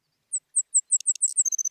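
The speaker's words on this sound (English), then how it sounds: "she sings rapid, short notes before building to a trill" A Savannah sparrow sings a thin, high song, starting with several rapid, evenly spaced short chips and building into a quick buzzy trill. It is clear and close against a silent background.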